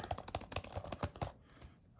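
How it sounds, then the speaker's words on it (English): Rapid crisp plastic clicks from the trackpad of a Lenovo Chromebook Duet 5 laptop, about a dozen close taps in an uneven quick rhythm before trailing off into quiet. "You guys hear that? It's the trackpad."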